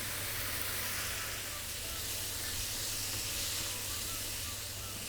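Cheese added onto steak mince in a hot frying pan gives a steady, loud hissing sizzle, even and unbroken throughout, close up.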